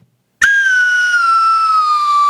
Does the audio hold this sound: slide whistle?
yes